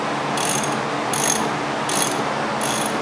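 Ratchet wrench loosening a bolt on a Honda Civic: four short, crisp bursts of rapid clicking at a steady rhythm, close and clear over a quiet background hum.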